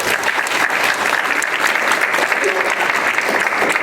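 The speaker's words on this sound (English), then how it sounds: "let's give them a round of applause again." A crowd applauds steadily, dense clapping filling the whole stretch at an even level, with faint voices mixed in.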